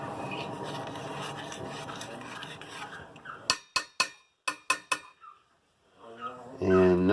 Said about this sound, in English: stirring that up